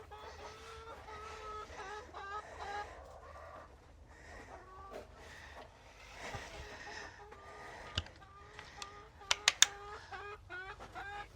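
Hens cluck inside a backyard coop, a near, continuous chorus of soft overlapping clucks and murmurs with a few sharper squawks toward the end, at fairly low volume.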